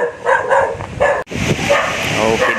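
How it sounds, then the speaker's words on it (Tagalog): A dog barks several times outdoors after a typhoon, short sharp yelps mixed with whimpering, fairly close, with a person speaking over and between the barks. "may aso."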